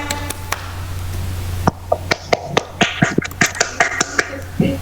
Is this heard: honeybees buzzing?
no